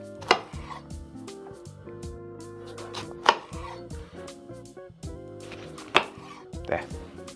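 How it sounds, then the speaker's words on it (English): A sharp knife cuts lemons in half on a cutting board, with several distinct chops at irregular intervals, close and crisp, over soft tonal background sound. "I'll take a sharp knife and I'm just going to cut my lemons in half"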